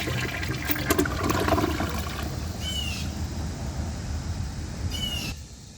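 A 2022 Mansfield Summit toilet with a 10-inch rough-in flushes nearby, a loud rushing swirl of water that gradually eases into a steady refill trickle before stopping abruptly.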